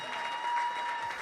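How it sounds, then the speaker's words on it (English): Guests at a wedding reception break into applause, a brief burst of many hands clapping together at moderate volume, cut short after about a second. "Let's give a big round of applause for Joe."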